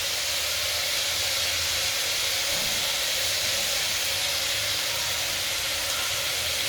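Vegetables fry in a pan while khichdi is being cooked, giving a steady, loud, even hiss and sizzle that goes on without a break and with no voices.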